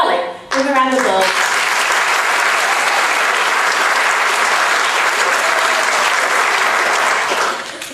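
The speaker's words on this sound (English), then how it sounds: "Give a round of applause." Sustained applause from a theatre audience at a concert, starting abruptly after a brief spoken introduction and holding steady and full for several seconds before fading at the end.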